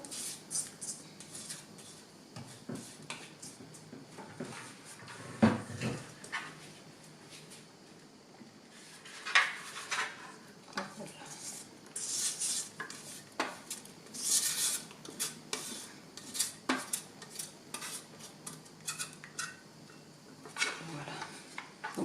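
A spatula scraping out the bowl of a Moulinex Companion food processor holding homemade laundry detergent, giving close, irregular scraping and clinking strokes with occasional light knocks, with no talk over them.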